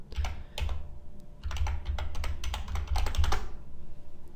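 Typing on a computer keyboard while entering a Linux command gives quick bursts of close key clicks. Short pauses separate a few runs of rapid taps, ending in a final keystroke before quiet.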